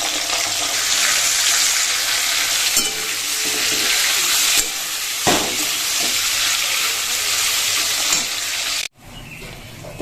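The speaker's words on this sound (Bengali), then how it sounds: "এই তেলের মধ্যে এখন কিন্তু আমি চিকেনগুলো ভেজে নেব" Chicken pieces fry in hot oil for a chicken dish with fried onion, producing a loud, continuous close sizzle with stirring knocks, before an abrupt cut to a quieter sizzle near the end.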